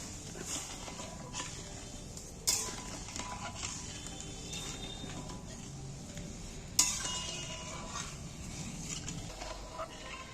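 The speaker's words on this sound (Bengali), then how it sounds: "এবার আমি চিনিটাকে একটু নেড়ে দিচ্ছি জলটার মধ্যে" A spoon stirring sugar into water in a metal pot, producing faint scraping and soft clinks with a couple of sharper knocks against the rim, quiet and close.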